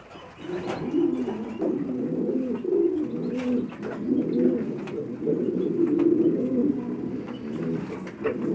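Pigeons in a loft cage cooing steadily, the low throaty coos overlapping in a continuous rolling murmur that stays close and fairly loud throughout, with no talk.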